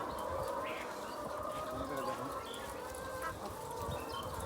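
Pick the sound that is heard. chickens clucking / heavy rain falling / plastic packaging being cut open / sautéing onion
chickens clucking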